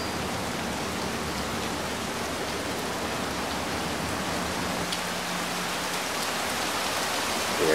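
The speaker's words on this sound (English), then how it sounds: "Here comes the rain more." Heavy rain pours steadily during a Florida thunderstorm with tornado warnings, a dense, even roar of drops hitting surfaces that holds constant and close throughout, with no voices.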